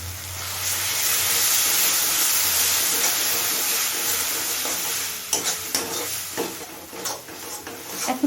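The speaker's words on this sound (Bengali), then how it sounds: "আদা রসুনের কাঁচা গন্ধ চলে যাওয়া পর্যন্ত কষিয়ে নেব" Ginger-garlic paste frying with softened tomatoes in a pan over a low flame, giving a steady loud sizzle and hiss, with scraping stirs and clinks getting busier toward the end; no talking.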